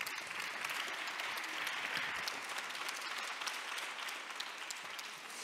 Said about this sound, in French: applaudissements généreux